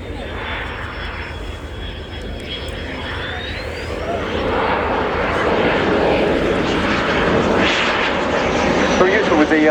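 A Belgian Air Component F-16A flies an airshow display at RIAT 2016, its jet engine a loud, continuous roar that swells steadily as it passes, with a commentator talking over it.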